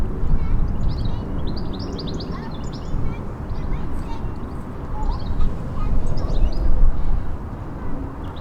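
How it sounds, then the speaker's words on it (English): Bright bird calls and chirps drift faintly in the background beside the River Thames, repeating in short scattered bursts over a constant rushing noise. "take a moment to listen to that beautiful bird song in the background there"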